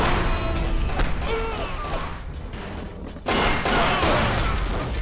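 Gunfire in the Red Ocean shooter game, a dense continuous crackle of shots and impacts that briefly eases before a louder burst returns, with faint game sounds mixed in.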